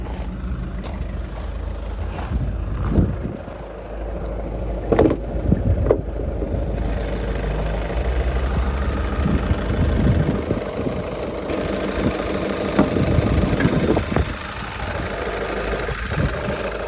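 A VW Scirocco diesel engine idles steadily nearby with a low, knocking clatter, along with a few faint clicks and knocks but no speech.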